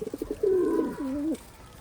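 A Khulna highflying pigeon coos close by: a few quick soft notes, then two longer rolling coos, with nothing else.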